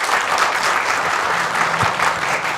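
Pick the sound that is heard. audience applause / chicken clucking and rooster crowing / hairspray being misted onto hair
audience applause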